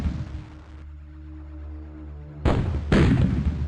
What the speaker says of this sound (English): That might be enough gunfire to push him back.